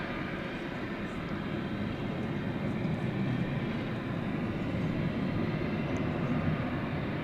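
A jet airliner takes off at DFW Airport, its engines roaring in a broad, steady wash that holds loud and constant for several seconds without any voices.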